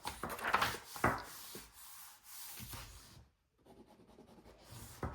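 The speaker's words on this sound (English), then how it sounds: "Maybe you'll write on my notebook." A pen writing on a notebook page, giving soft scratchy strokes in short bursts with a brief pause before writing resumes, close and fairly quiet.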